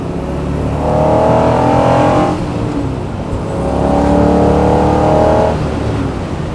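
A 1967 Chevrolet Corvette convertible's L71 427 V8 revs up twice toward about 5,500 RPM, each time rising in pitch and roaring louder before easing off, heard close and steady with no talking.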